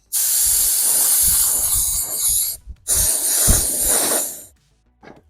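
An aerosol can lays light coats of green paint in two long, loud, close hissing bursts separated by a brief pause, with faint handling clicks once the spray stops.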